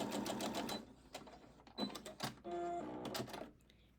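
A sewing machine stitches a quilt seam with a narrow 1/8 inch allowance for a star block, running in close, loud bursts of rapid mechanical whirring broken by short pauses.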